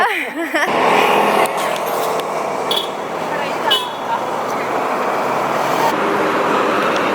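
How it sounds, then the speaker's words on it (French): Steady, loud roadway roar as a school bus passes close by on the road, broad engine and tire noise holding level for several seconds with brief clicks on top. "Ah, c'est un bus scolaire."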